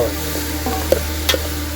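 Vegetables sizzle in a hot pan while a utensil stirs them, with a few sharp scrapes and clinks against the metal.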